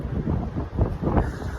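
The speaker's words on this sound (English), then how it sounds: "it's a bit too windy here" Wind buffets the microphone in rough, gusting rumbles, loud and close, with no other sound coming through.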